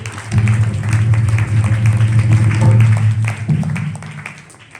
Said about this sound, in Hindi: एक दफा इस टीम के लिए जोरदार तालियां बजाएंगे